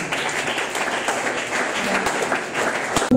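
A church congregation breaks into steady applause, a dense, continuous wash of clapping filling the room for several seconds at fairly close range.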